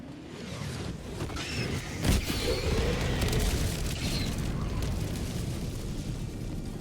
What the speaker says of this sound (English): you could just blow the place sky high